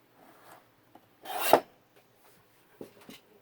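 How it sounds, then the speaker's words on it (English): A blade trims the edges of a paper journal page along a ruler, with one loud rasping cut in the middle and a few small scrapes and taps around it, close and otherwise quiet. "Let's see if we can trim these off without much incident."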